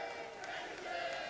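A large crowd at an esports arena during a Counter-Strike: Global Offensive major grand final roars and cheers in a dense, continuous wash of noise.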